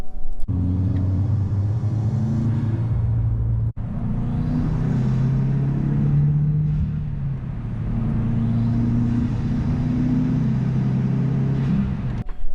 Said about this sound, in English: I never get tired of hearing the recirculating valve when I let off the gas.